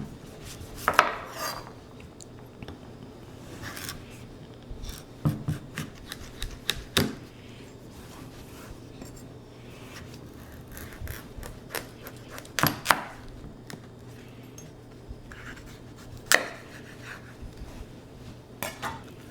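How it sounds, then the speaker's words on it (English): A sharp kitchen knife cuts a butternut squash lengthwise down the center on a cutting board for soup, giving scattered cutting knocks and thuds with quiet scraping between them. No one speaks. "take a sharp knife and just go down the center lengthwise"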